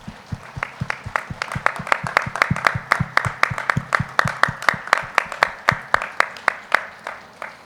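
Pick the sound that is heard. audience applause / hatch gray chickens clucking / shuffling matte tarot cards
audience applause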